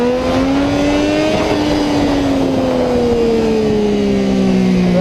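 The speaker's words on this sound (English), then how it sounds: "it's revving the engine a bit too much" A 2008-2011 Triumph Street Triple motorcycle engine revs hard and close in first gear, its high droning pitch rising briefly then slowly sinking, loud and sustained throughout.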